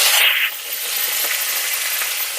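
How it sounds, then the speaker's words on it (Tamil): Curry leaves frying in hot oil for a chicken dish: a loud hissing burst at the start that quickly settles into a steady, fainter sizzle with no talking. "அப்படியே இந்த கருவேப்பில் வச்சுருக்க பாருங்க இதை வறுத்து எடுக்கிறேன்"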